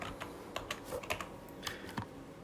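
Typing on a computer keyboard to enter a product search on an online hardware shop built with React and Firebase, a quick run of close, light key clicks in uneven bursts with no talking.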